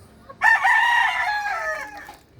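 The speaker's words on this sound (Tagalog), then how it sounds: "Gandang inahin yun." A native hen gives a single loud, drawn-out squawking call, close by and otherwise alone.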